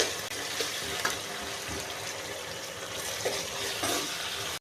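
Cumin and mustard seeds fry in a hot pan with steady crackling sizzle throughout, with occasional soft pops and a stir, fairly close.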